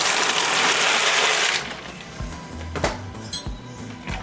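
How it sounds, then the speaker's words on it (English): A steady rush of boiling water gives way to dry ziti pasta being tipped into the metal pot, a rattling clatter of hard pieces clinking against the pot and each other in uneven bursts, close by. "we're going to add our pasta."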